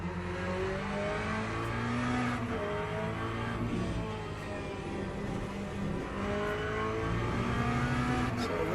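A Corvette race car in Le Mans Ultimate drones steadily with its engine at high revs, shifting pitch through gear changes and throttle lifts, loud and continuous with faint tire noise.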